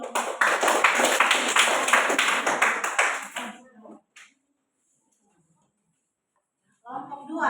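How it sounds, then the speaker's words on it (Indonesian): A classroom audience claps together in dense, steady applause for about three and a half seconds. It then fades out into near silence, and brief murmuring returns at the end. "Tepuk tangan dulu."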